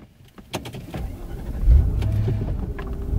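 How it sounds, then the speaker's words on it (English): A Mercedes C43 AMG V8 engine cranks and fires up, settling into a deep, steady idle after a few clicks and mechanical clunks. "the first thing we notice as soon as we fire it up is the sound of the engine"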